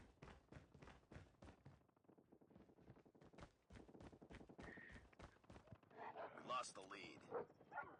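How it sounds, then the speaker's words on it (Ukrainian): A hostile attack dog barking in Call of Duty Mobile, with quick repeated barks and yips among rhythmic in-game thuds while someone talks over the action. "Так, ворожа собака біжить."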